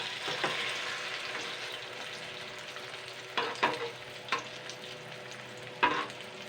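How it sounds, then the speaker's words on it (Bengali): Ash gourd-stuffed fritters fry in ghee with a soft, constant sizzle, broken by several sharp scraping knocks as they are stirred and turned over in the pan. "এগুলো কিন্তু অনেকটাই কিন্তু ভাজা হয়ে গেছে। আমি এবারে আরেকটা সাইড"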